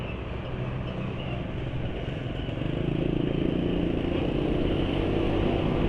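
A Suzuki Nex II scooter engine droning steadily near at hand, its revs climbing somewhat partway through and holding high, the throttle hanging rather than dropping quickly, with no speech.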